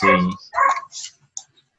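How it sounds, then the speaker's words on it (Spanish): A small dog barks in a few short, sharp bursts, close and fairly loud at first, then fainter and more sporadic, heard through an open microphone on a video call. "Hay un perrito ladrando por allí"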